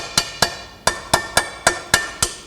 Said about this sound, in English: he's not giving huge whacks of the hammer.